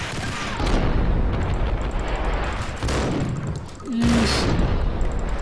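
Gunfire from the video game Max Payne: a few heavy, booming shots with rumbling tails, spread over a few seconds, and a player mutters once.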